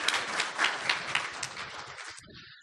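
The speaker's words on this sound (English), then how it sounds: "How about a round of applause?" Attendees at a board meeting give a round of applause, dense clapping close by that swells and then stops abruptly near the end, leaving a brief quiet tail.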